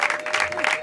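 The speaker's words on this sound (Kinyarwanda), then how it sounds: "nanone mukoma amashyi menshi" Brief burst of applause from guests at a Rwandan traditional wedding ceremony, steady clapping filling the short moment with a faint crowd murmur beneath.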